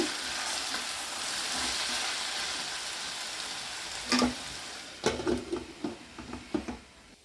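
Onions fry in hot oil in a pan with a steady, close sizzle, followed by a string of short knocks and scrapes as they are stirred.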